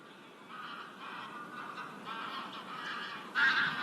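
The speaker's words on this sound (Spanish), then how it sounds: "Los gansos se agrupan en invierno en inmensas bandadas de hasta decenas de miles de individuos juntos." Geese honking among the Doñana dunes in winter, a dense overlapping chorus of calls from a flock at middle distance, with one louder honk near the end.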